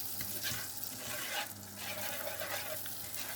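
Food frying in a pan while carbonara is being cooked, a steady close crackling sizzle with stirring noises, continuous and moderately loud, with no voices.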